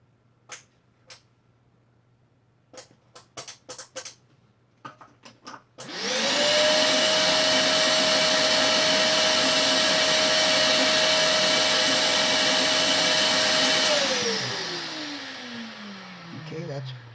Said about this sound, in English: and then I'm going to vacuum that right away.